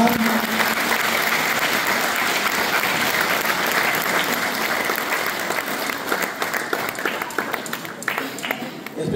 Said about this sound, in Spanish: un fuerte aplauso a Violeta Quijano.